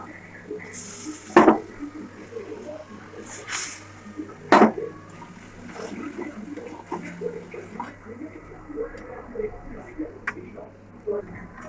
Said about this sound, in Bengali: আবার একটু পনিরগুলো লাড়িয়ে দেবো।